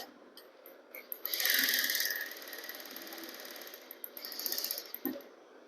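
A sewing machine stitching down a folded inner fabric edge, running in two fast whirring bursts separated by slower mechanical ticking and clicking, close and fairly quiet.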